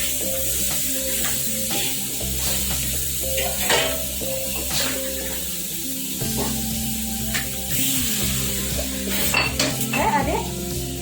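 Long beans frying in a pan for a stir-fry with shallot flower stems and shrimp, a steady sizzle broken by repeated scrapes and clinks of a utensil stirring against the pan, close up and without talk.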